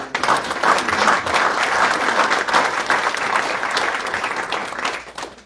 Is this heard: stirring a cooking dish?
no